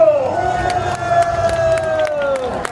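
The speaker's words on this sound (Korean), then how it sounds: "17개월 동안 광화문 대회를 유지하기 위해서 고생한 여러분 손상대 민족사회에게 박수 한번 쳐주십시오" Crowd cheering and shouting at an outdoor Liberation Day rally in Gwanghwamun, Seoul, a loud continuous roar of many voices with a sustained pitched tone running through it.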